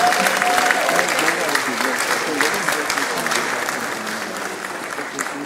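At the Invest Lagos 3.0 business event, the crowd applauds for the Lagos governor in a steady, full burst of clapping that tapers off gradually, with some voices mixed in.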